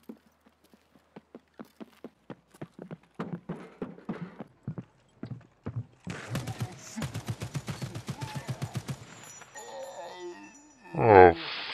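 Gunfire in the video game Escape from Tarkov, a dense volley of rapid shots building to a loud burst near the end, preceded by a steady run of rhythmic impacts resembling footsteps.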